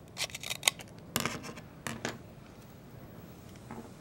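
Scissors trim away excess craft material in several close, crisp snips, a quick cluster of cuts followed by a few more spaced ones and a softer final snip.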